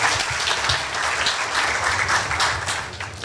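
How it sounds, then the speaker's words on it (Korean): A forum audience gives a round of thanks applause after a sand art performance, many hands clapping in a full, steady patter that holds evenly for a few seconds and then eases slightly. "우리 다시 한번 감사의 박수 한번 부탁드리겠습니다."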